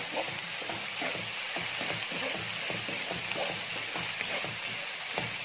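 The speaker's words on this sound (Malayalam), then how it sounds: "ചുവന്നുള്ളി ഇവിടെ അങ്ങോട്ട് കൊടുക്കാം. നല്ലപോലെ വാടി വരട്ടെ." Shallots and onions sautéing in a pan for a country-style beef dish, giving a steady close sizzle and frying crackle with occasional stirring scrapes throughout, no talking.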